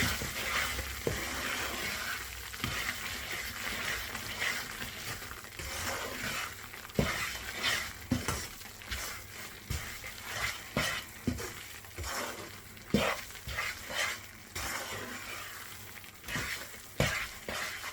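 A spoon scrapes and stirs semolina halwa frying in a pan, a steady soft sizzle broken by repeated sharp scraping strokes against the metal, close and with no talking.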